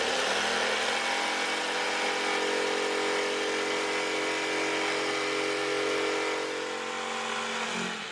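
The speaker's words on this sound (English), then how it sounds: "we can use the jigsaw to cut the curves." A jigsaw cuts curves in wood for boat bunk tops, a steady loud buzzing whine that runs without a break for about eight seconds and eases slightly near the end.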